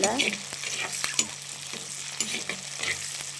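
Small onions sautéing in a pan for a Tamil garlic kuzhambu, a steady close sizzle broken by scraping stirs at short intervals, with no talking.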